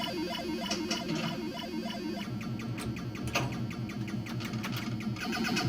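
A ball clatters and bumps around the Andromeda virtual pinball table, with rapid rhythmic electronic thumps and busy mechanical rattling repeating steadily, loud and close, with no music behind it.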